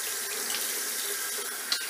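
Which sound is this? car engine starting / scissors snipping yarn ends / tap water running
tap water running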